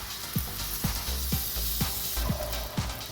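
Bread browning in butter in a frying pan gives a steady close sizzle, with soft regular thumps about every half second over it.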